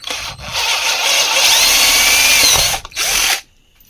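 Close, loud whine of an electric drill running steadily for a few seconds, briefly stopping, then spinning again before cutting off, drilling an old hole in a tabletop wet grinder during a bearing replacement.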